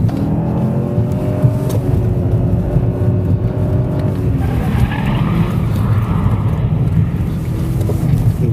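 A Cadillac CTS-V on the Willow Springs Street Circuit slides its tail out through a slow second-gear corner, a steady engine drone with a rising, shifting pitch under throttle, close and loud throughout.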